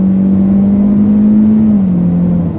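2024 Hyundai Elantra Limited with a CVT transmission, engine droning steadily under throttle, the pitch holding level then easing slightly lower, a loud continuous hum close to the cabin.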